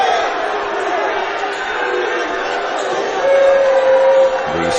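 Small crowd of fans at a Park Tudor versus Richmond high school basketball game reacting to a referee's call, a steady murmur of voices that swells into louder jeering near the end.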